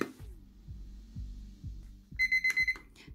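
Kitchen timer alarm sounding after a 15-minute countdown, a few quiet thuds and handling noises first, then a close, shrill series of rapid electronic beeps in short bursts near the end, with no one speaking.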